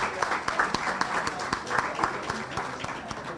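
A live audience applauds a university debate team after a debate match, with steady clapping running through the moment under a broadband crowd wash.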